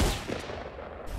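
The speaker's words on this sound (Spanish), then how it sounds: "Francotirador parece." A sniper rifle fires once in Fortnite, a single loud, sharp blast with a short rumbling tail.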